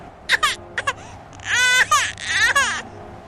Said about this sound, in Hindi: इतनी तूफानी बारिश में किसका बच्चा इतनी जोर जोर से रो रहा है।